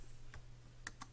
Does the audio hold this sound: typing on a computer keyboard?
yes